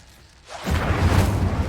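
An Incendio fire spell cast in Hogwarts Legacy, a sudden whooshing burst of flame that swells after a quiet start and roars steadily for about a second.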